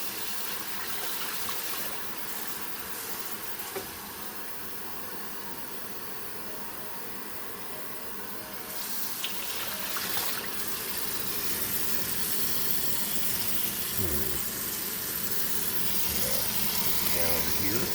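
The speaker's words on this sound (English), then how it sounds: "Run the water through at least once." Water runs steadily through a water filter, a continuous close gushing hiss that thickens partway through, with a few faint knocks and clatters underneath.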